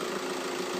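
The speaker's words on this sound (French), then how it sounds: "Comme on voit, le moteur il tourne impeccable." A car engine idles steadily and evenly after the owner replaced its timing components himself, a continuous smooth hum with no breaks, heard alone.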